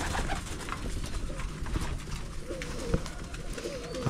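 Pigeons cooing inside a loft, soft low coos repeating against a busy background of rustling and scattered bird noise.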